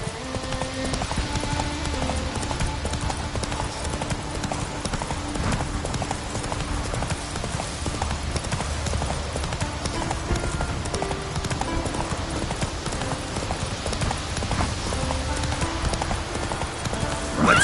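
Horse hooves clip-clop steadily while riding in The Witcher 3 game, a continuous trotting rhythm layered over dense game music and ambience, with occasional whinnies; nearby voices speak briefly.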